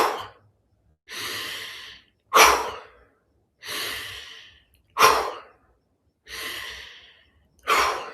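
Rhythmic breathing exercise: forceful exhales alternating with shorter, sharper inhales, close and clear, seven breaths in a steady paced cycle with brief silences between.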